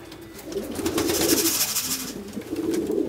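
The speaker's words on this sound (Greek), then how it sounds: "Εδώ είναι τα πουλάκια, τα βλέπετε." Pigeons or doves cooing softly in their coop on a frosty February winter day, a steady murmuring coo with faint wing and body rustles, fairly close and alone without talk.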